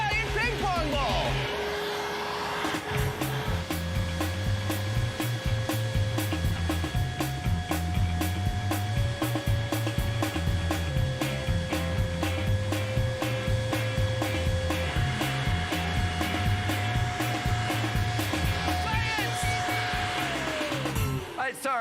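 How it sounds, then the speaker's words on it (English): A giant hair dryer blows continuously for over twenty seconds, a loud, steady roaring rush with droning tonal whines layered on top. "we have to max it out with a giant hairdryer and a giant ping pong ball"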